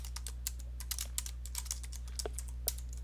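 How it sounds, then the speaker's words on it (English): Keys on a computer keyboard are typed in quick, uneven bursts of close, crisp clicks over a steady low electrical hum, with no voices. "I type a purpose in the box"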